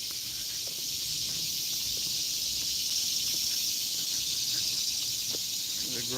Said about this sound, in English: But you could hear the cicadas.